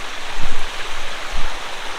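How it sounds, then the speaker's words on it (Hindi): Water flows steadily through an ancient stone tunnel, a continuous rushing, splashing wash with a couple of low thumps, close and fairly loud, with no talking. "यहाँ हमेशा ऐसी पानी बहता रहता है।"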